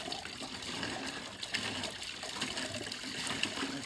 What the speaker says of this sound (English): The water floods out everywhere.